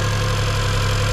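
A Suzuki Cappuccino engine fitted with a new HKS intake and blow-off valve delete idles slightly high. The idle is steady and close, with an even, throbbing low hum and no talk.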